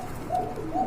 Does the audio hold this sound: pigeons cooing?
yes